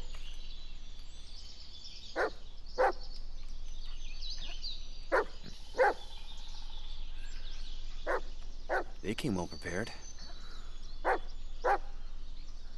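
A dog in the Blair Witch video game barks in short, evenly spaced single woofs over a quiet, hissy background. A voice speaks briefly once.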